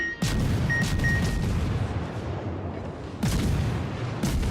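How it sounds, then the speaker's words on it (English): Heavy booming naval gunfire from a Tier 7 KM destroyer, the Maas, in World of Warships, two big salvos with a long rumbling roar between and after them, loud and close. "I'm firing the wrong shells."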